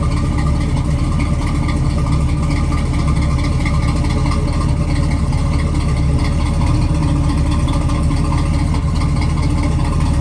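A 1968 Pontiac Firebird V8 with a mild performance cam idles close by, producing a steady, loud, unbroken rumble that runs throughout without any speech.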